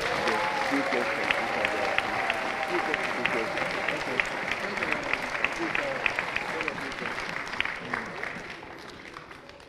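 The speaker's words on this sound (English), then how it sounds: "can I please hear another big hand of applause?" A crowd at a Peter Obi town hall meeting in Charlotte gives sustained applause, a dense roomful of clapping with faint cheers and crowd murmur mixed in, easing slightly toward the end.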